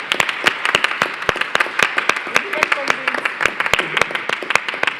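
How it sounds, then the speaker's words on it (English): An audience at a conference closing plenary applauds for the speakers, a dense, steady clatter of many hands clapping together, loud and continuous with no voices over it. "let us give again a big roll of applause to our speakers"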